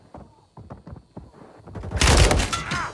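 Bursts of gunfire in the online shooter Warzone, starting as scattered shots and building into a loud, dense volley that fills the last second.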